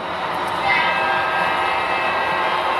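A model train sound with a sustained horn-like tone over steady rumbling mechanical noise, continuous and fairly loud throughout.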